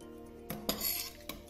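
Hot dry chilli paneer is spooned onto a plate, with a few light metallic clinks of a spoon against the dish over a faint background hum.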